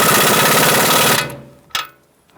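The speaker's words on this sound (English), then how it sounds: "I'm using a 21 millimeter long socket and my impact gun" An impact gun with a 21 mm long socket tightens a front strut bolt on a 2000-2007 Ford Taurus, giving a loud, close rattling hammer burst that stops abruptly, followed by a short sharp clack and quiet.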